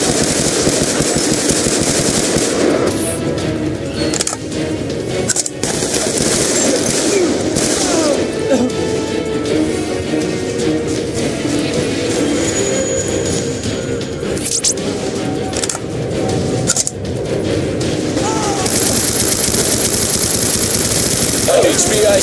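Loud, dense enemy gunfire in Call of Duty Black Ops, with bursts of automatic fire and impacts running almost without pause amid crashing effects, while radio-style voices speak over it.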